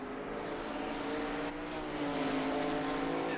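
A GT4 race car in Assetto Corsa Competizione braking into a corner, with a steady, dense engine roar that dips briefly mid-clip, then swells louder, continuous and close throughout.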